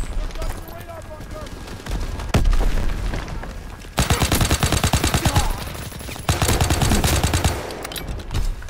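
Type 100 submachine gun fire in a WW2 shooter game, loud rapid bursts of automatic shots with booming impacts, long sustained strings of fire, a person talking over part of it.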